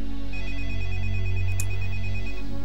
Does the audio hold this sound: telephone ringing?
yes